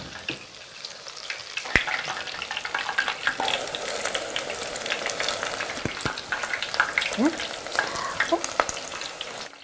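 Loud, dense sizzling of spinach deep frying in hot oil, crackling steadily throughout with a few light clinks and a brief voice.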